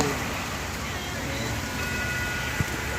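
Steady rain pours down at a fishing spot, a dense constant hiss close to the microphone with one brief knock near the end.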